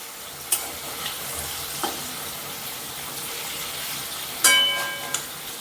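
Palm fruit fritters fry in oil over a low flame with a soft, continuous sizzle, broken by a few sharp clinks and scrapes as they are turned.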